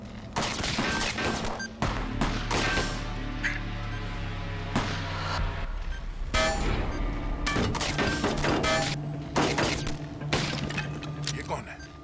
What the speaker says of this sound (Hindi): ये कौन है? कहां से गोली चला रहा?